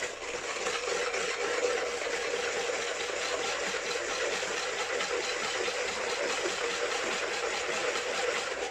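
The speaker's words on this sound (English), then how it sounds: "So just give that a whisk for a minute." Cookie ingredients are whisked in a bowl by hand with a small whisk, giving a continuous, fast, rhythmic scratching whirr that holds at an even level throughout with no voices.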